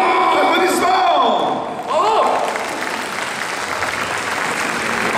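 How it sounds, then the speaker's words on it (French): Audience applause and cheering at an on-stage game challenge during a summer manga convention in Fréjus, a steady loud wash of clapping with crowd noise and a voice calling out over it. "Applaudissements!"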